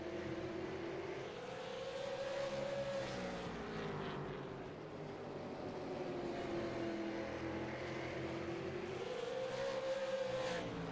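Super Late Model race cars roaring around South Boston's oval, engine drone rising and falling steadily as the cars pass, with a broadcast commentator's voice over the racing.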